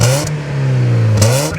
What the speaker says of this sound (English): First time the internet's heard it with the new stock exhaust.